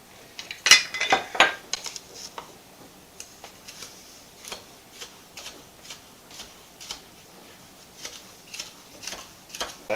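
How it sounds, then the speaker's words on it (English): Spoon stirring sugar into an apple cider vinegar shrub mixture in a container, a steady series of light clinks and taps repeating every half second or so, fairly close, with a louder cluster of scraping knocks near the start. "I'm going to mix the sugar in at this point"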